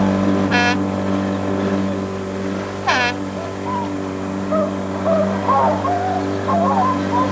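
A boat's engine holds a steady, loud droning hum at increased throttle, a continuous low tone under the whole stretch, with brief chirping sounds and faint scattered higher noises on top.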